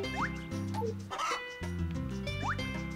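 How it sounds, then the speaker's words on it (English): Chickens clucking in the farming video game Harvest Moon: A Wonderful Life, a few short synthetic clucks sounding over a steady looping background music track. "And check out my chickens."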